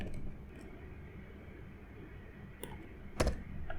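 Text is typed on a computer keyboard for a Photoshop text layer, with a few soft, close key clicks over a low steady background hum.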